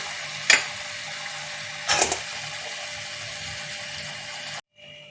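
Raw fish pieces dropped into hot mustard oil in a pan for a Bengali mustard and poppy seed fish curry give a steady close sizzle, with two sharp bursts as pieces land, then an abrupt cut near the end.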